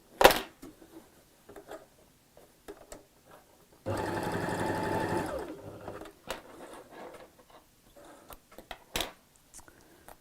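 A sewing machine runs one steady burst of stitching along a tote bag seam allowance, close and fairly loud, with quiet handling noises of fabric before and after.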